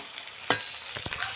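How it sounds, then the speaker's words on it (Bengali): Lentil dumplings (bori) fry in oil with a soft steady sizzle, punctuated by a few brief scraping stirs, quiet and close with no voices. "আমি ওই বড়িগুলো ওই তেলের মধ্যে একটু ভেজে নেব"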